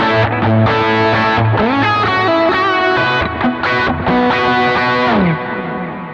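Electric guitar with a driven amp tone run through two delays and a reverb, playing sustained chords and gliding melodic lines that wash together into a loud, wet, echoing texture, with no voices.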